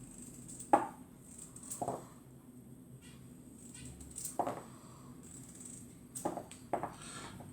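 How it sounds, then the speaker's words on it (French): Knife chopping carrots into small pieces on a cutting board, a few sharp separate chops spaced through a quiet kitchen, close and fairly faint. "Je coupe mes carottes en un petit trognon, j'appelle ça moi, des petits morceaux"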